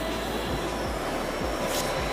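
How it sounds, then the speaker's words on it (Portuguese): A train rolls through Gare de Cornavin station in Geneva, with steady rumble and rhythmic low wheel thumps over rail joints, close and continuous with no talk. "Oh, olha o comboio."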